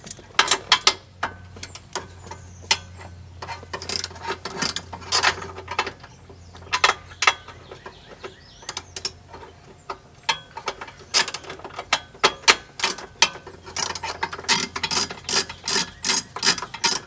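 Ratchet clicking in repeated bursts while 10mm bolts are loosened from a 1999-2007 Chevrolet Silverado dashboard, sharp close pawl ticks with pauses between strokes over a low steady hum, no talking.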